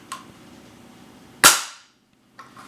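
A spring-piston RWS Diana 56 TH .177 air rifle fires one loud, sharp crack close to the microphone, followed by a brief decaying ring and a faint click from the action afterward.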